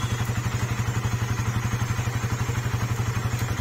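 A Suzuki Satria FU 150cc motorcycle engine idles steadily up close, a rapid, even thumping putter that keeps the same rhythm throughout.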